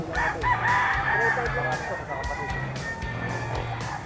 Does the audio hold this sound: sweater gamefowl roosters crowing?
yes